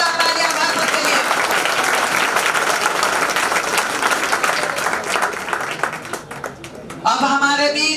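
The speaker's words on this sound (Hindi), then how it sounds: "एक बार जोरदार तालियां भारत के लिए।" Loud, dense applause from a seminar audience in a hall, many hands clapping steadily for several seconds before thinning out, followed by a short final burst of clapping.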